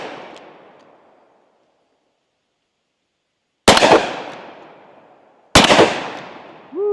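Two sharp, loud gunshots from a Smith and Wesson 686 Mountain Gun revolver ring out about two seconds apart. Each crack is followed by a fading echo, and the tail of an earlier shot decays at the start.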